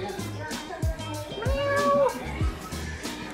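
A pet cat meows several times, a drawn-out rising and falling meow in the middle flanked by shorter calls, close and clear, with people's voices and soft thumps around it.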